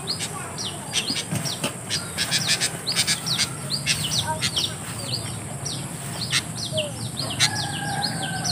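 Repeated chirps from a sooty-headed bulbul (kutilang), bright and rapid bursts over a steady hiss of outdoor background noise, with faint voices underneath.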